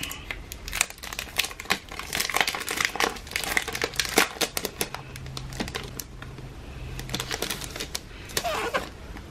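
Planner sticker kit packaging torn open by hand, a steady close run of crinkling plastic, tearing and rustling paper, busy and fairly loud throughout.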